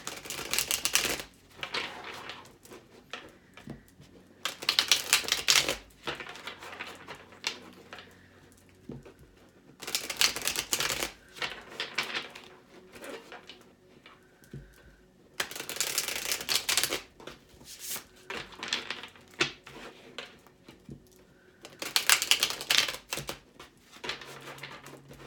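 Tarot cards are riffled and shuffled in repeated bursts of crisp flapping and patter, close by, with quiet gaps between each shuffle.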